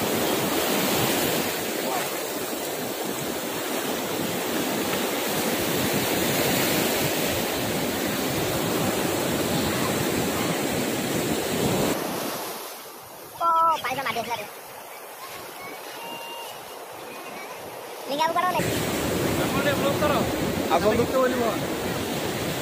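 Sea waves breaking and washing onto Gopalpur beach in Odisha, a steady broadband surf roar with wind on the microphone, a brief quieter lull partway through, and voices speaking over the surf.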